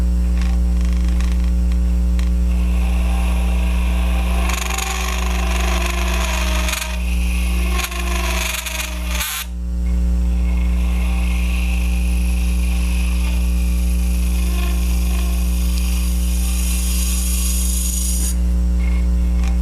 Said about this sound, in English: Now if I get chatter like that, I need to take a lighter cut.